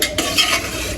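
Pangas fish curry sizzling in a pan as water is poured in and stirred, a short burst of close, bright hissing with spoon scraping.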